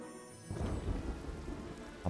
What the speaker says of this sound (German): Dann haben wir das Regenunwetter.